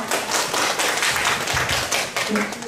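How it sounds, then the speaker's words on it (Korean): Audience applause at a Korean community seminar, a steady, dense wash of clapping filling the room for the whole stretch with no pauses and no voices. "큰 박수 부탁드립니다."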